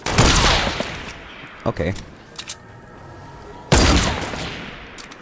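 Video game gunfire in a shooter match, loud bursts of rapid automatic fire at the start and end with a few isolated shots between, while a player speaks briefly.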